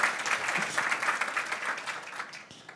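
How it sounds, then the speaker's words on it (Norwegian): Audience applause at a Norwegian public talk on personalised medicine, steady and fairly loud, with dense clapping that tapers slightly toward the end. "klapp"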